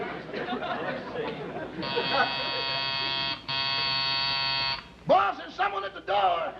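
A door buzzer in an old-time radio comedy show sounds two long, steady, harsh buzzes back to back, with brief voices and noise before and after.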